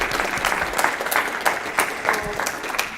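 Applause at an academic economics conference for the student papers, with a full, dense round of clapping from an audience that continues steadily throughout.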